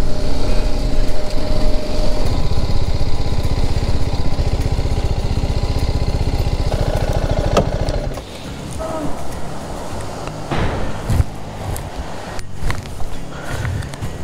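A BMW G310 GS single-cylinder motorcycle runs while being ridden on a rough jungle road, its engine a dense steady drone up close that drops away partway through to a quieter idle with rattles and wind.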